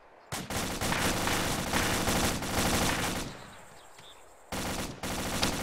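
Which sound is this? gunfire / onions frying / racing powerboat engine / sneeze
gunfire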